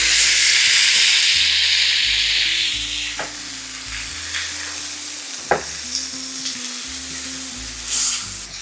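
Smashburger patties, pressed flat for a bacon double cheese smashburger, sizzle loudly on a hot griddle with steady broadband crackle, a few sharp scrape and tap clicks from a burger press and turner cutting through.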